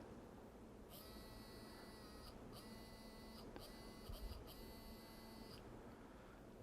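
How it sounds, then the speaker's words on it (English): Small motor in a Kenwood KRC-99 car stereo cassette mechanism, bench-powered during repair, whirring with a steady high whine for several seconds, plus a faint low hum and a brief clunk near the end. "This will be the first motor. Looking for that gear right there to start rotating."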